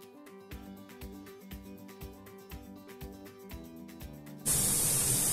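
Oil sizzles and hisses in a frying pan while a squash-stuffing dish is cooked, the spatter rising to a loud, steady broadband hiss in the last second after rhythmic background music.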